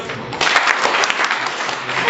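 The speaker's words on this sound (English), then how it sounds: "Can you clap for yourself?" High school students clap for themselves in a school gathering, a dense burst of applause that swells after a brief quieter start and stays steady.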